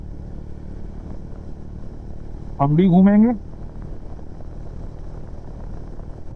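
A Bajaj Dominar motorcycle runs while being ridden on the road, its engine giving a steady low rumble throughout. A voice speaks briefly over it.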